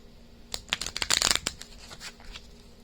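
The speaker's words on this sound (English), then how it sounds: "I'm shuffling it 3 times." A deck of tarot cards is riffled and shuffled close by, a crisp flurry of rapid flicking snaps building to a dense burst in the middle, then tapering to a few soft taps.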